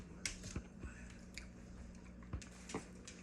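A dog named Chewy chewing a piece of bacon close by, with a few soft wet bites and smacks spread over a quiet room hum.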